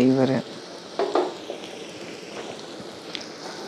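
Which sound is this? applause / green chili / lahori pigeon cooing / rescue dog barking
green chili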